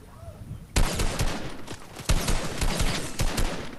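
Rapid bursts of video game gunfire crackle throughout after a quieter start, with sharp volleys and repeated shots sounding close and loud, and a faint voice underneath.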